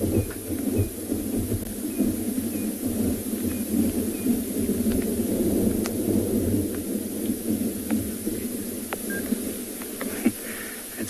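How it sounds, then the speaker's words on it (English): Deep, continuous thunder rumbles through a wide open landscape during an evening safari drive, low and rolling with a steady wash of wind or light rain and a few faint clicks on top. "just listen to that thunder."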